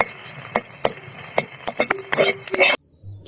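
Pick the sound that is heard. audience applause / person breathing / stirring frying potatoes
stirring frying potatoes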